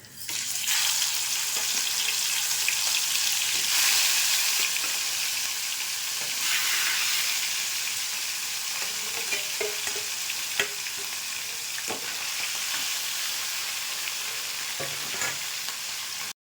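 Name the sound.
rohu fish frying in hot mustard oil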